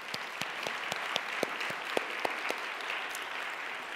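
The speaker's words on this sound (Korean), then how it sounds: "다 함께 같이 축하와 격려의 박수 한번 올려드리겠습니다" A church congregation claps in congratulation and encouragement for graduates and newcomers during a worship service: continuous applause with sharp individual claps standing out, moderately distant and without talk.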